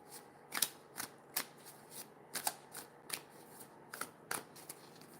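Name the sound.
shuffling higher self oracle cards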